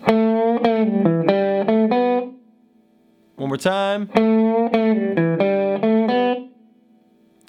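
Electric guitar plays line four of a song's solo, a single lick with a string bend and pull-offs, heard twice as a close phrase of picked notes with a pause between, a voice speaking briefly in the gap.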